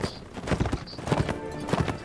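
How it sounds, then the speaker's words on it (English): Horses' hooves clip-clop rapidly in Mount & Blade: Warband, a steady galloping patter with an occasional whinny, close and moderately loud with no talk. "And we got horses."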